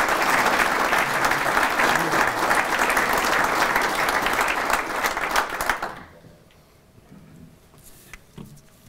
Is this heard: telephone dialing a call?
no